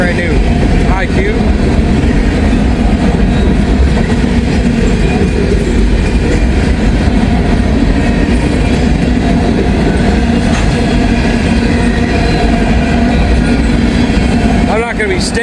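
A long freight train with trash cars rolls past steadily and loudly, a continuous rumble with rhythmic wheel clatter and occasional squeals throughout.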